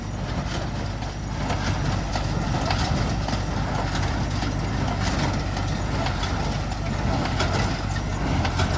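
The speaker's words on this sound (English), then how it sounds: "Old tractor, boom." An old tractor runs in a hay field during baling, its engine giving a steady, loud, unbroken drone close by with no pauses.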